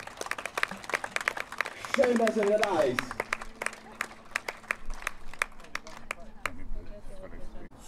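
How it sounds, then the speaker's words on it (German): Audience applause at an eagle show at Landskron Castle in Austria, scattered claps of moderate loudness spread across the clip, with someone speaking briefly over them. "einen kräftigen Applaus geben"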